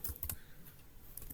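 A computer keyboard is typed on in a short burst of sharp clicks, with a cluster early on and a couple of strokes near the end. The keys are close and quiet, and nobody speaks.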